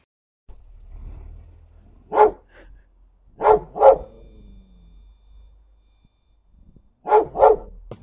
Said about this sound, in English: Oh my goodness, that's a dog.